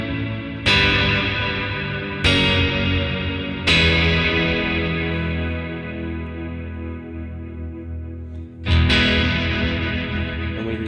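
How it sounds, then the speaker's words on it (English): OBNE Parting pedal delaying sustained guitar chords, smear control adding diffusion so the repeats wash into a reverb-like swell; four strummed chords ring out and decay into a thick, blurred tail, no talking. "we can start playing with the smear knob, which introduces some diffusion to the delay signal, giving us more of a reverb sound"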